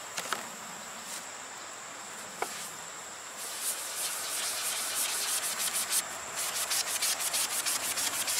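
Mr. Clean pads scrub the colored plastic of a 1996 Yamaha Wave Runner Raider 1100: close, continuous abrasive rubbing that turns into quick, rhythmic back-and-forth strokes, with a couple of faint knocks early on.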